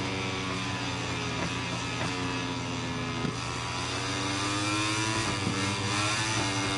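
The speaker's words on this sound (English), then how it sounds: "But it is a two-stroke, and that's why it's kind of takes a little bit to get up on the power on the thing." A two-stroke motorcycle engine builds power, a harmonic-rich buzzing whine that climbs and holds as the bike accelerates, heard close and steady with small shifts in pitch.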